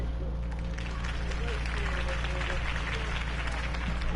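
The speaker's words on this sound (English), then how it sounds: "If only Mr. Wayne, my campaign's largest backer, could have heard that applause" A video game crowd applauds after a campaign speech, a steady wash of clapping under a low droning hum, with a voice speaking over it.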